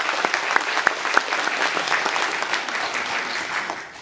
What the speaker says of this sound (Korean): 귀한 찬양 불러주신 우리 찬양대 한 박수 보내주시기 바랍니다.